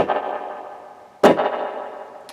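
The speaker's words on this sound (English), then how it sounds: "it has the spring part, but it has that little bit of a fluttery echo, which is very cool" Clean electric guitar on the neck pickup runs through spring reverb with a fluttery echo; two struck chords ring out, each trailing into a long, shimmering, wobbling tail.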